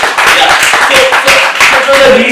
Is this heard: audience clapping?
yes